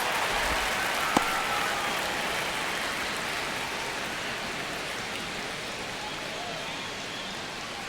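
Crowd at a baseball stadium in an MLB video game on PS5, tense in the ninth inning of a one-run Mariners–Padres game: a steady, wide wash of crowd noise with one brief sharp tick near the start.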